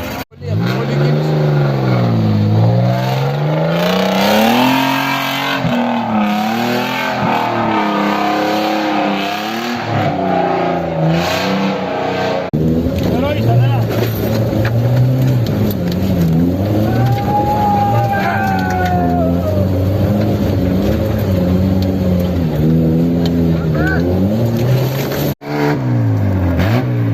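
An off-road car's engine revs hard in mud, repeatedly rising and falling through long surging strains, loud and close, with voices briefly heard over the motor.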